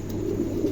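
Male pigeon, a new adult light silver bird, cooing softly in low repeated murmurs over a steady low hum, close and fairly quiet.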